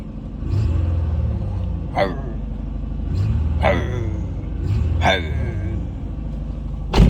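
A car is reluctant to start at night, giving repeated labored surges of engine rumble with sharp bursts roughly every second and a half, heard up close with no clear speech.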